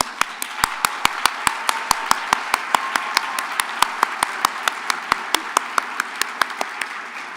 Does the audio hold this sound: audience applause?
yes